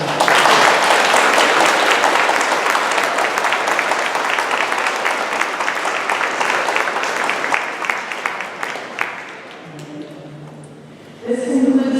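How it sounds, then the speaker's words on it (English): Graduates at a 2021 graduation recognition ceremony break into sustained, loud applause that runs steadily for about nine seconds before thinning out, followed by a brief spoken voice at the end. "Graduates, join me in a round of applause to show your appreciation."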